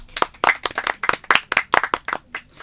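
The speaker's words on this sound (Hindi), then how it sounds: "मैं चाहूँगी कि सब उनके लिए तालियां" A small group claps at a community radio station's Independence Day celebration, a loose run of distinct, crisp claps close to the microphone, uneven and fairly loud, with no talking.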